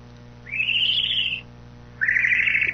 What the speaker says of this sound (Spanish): ¿Por qué una lechuza se reía? Es lo que nos estaba comentando, se carcajeaba.